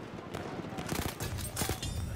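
Rapid gunfire in the World War I shooter Battlefield 1, a quiet, distant rattle of mixed shots and volleys running continuously through the short span.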